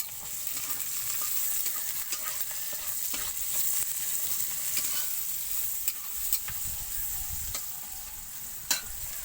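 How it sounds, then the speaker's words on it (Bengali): Onions sizzle and fry in a hot pan at home, a steady dense hiss with occasional stirring clicks and pops, no voices present. "পেঁয়াজটা ভাজা করে নিচ্ছি"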